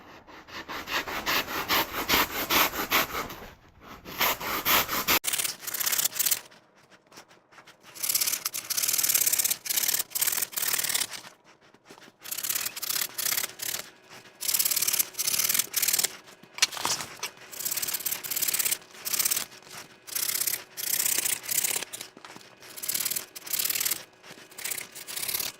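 Trimming an inner foam mud plug for an ATV bead lock wheel, with repeated close scraping and rubbing strokes in bursts and short pauses between them.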